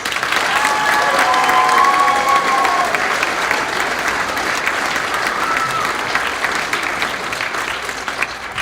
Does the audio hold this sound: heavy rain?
no